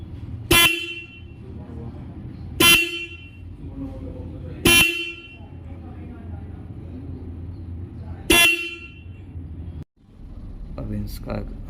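Royal Enfield motorcycle's single horn sounded in four loud, separate short honks spaced about two seconds apart, with idle noise between them.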